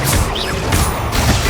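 A Bombarda blasting spell cast in Hogwarts Legacy, heard as a loud, dense burst of crashing impact noise that holds steady through the whole moment, with a rising whistling streak near the start.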